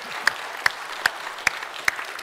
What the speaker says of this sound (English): that Emma has given her life to Christ, let her know it with an amen as you're applauding